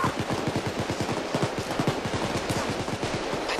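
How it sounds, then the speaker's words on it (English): Rapid bursts of automatic gunfire in Payday 2 rattle on without pause, a dense run of sharp shots hammering at a steady, mid-distance level. "our escape driver's being shot to hell over there"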